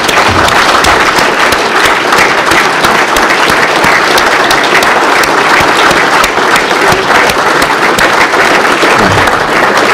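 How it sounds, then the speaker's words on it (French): A large congress audience of French delegates stands and applauds women world champions, with dense, sustained clapping filling the whole stretch at steady high loudness and no voices. "qu'on se mette debout et qu'on applaudisse l'ensemble de ces personnes féminines et de ces championnes"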